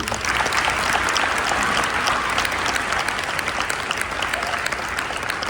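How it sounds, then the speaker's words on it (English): An audience at a softball signing day ceremony claps in a full round of applause, a thick, even wash of many hands that holds steady throughout. "Let's give a round of applause for Macy."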